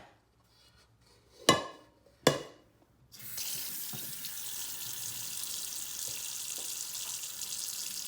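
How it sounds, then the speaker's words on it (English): Cold tap water runs steadily into a kitchen sink to cool hot cooked noodles for mac and cheese, a broad hiss that starts after two sharp knocks and keeps going at an even level. "put it in the sink and run cold water on the noodles"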